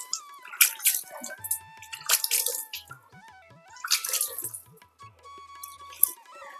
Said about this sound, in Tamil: இப்போ அதே போல் இந்த செடிக்கும் அப்படியே நம்ம வந்து தண்ணி ஊற்றி விட்டுருலாம்.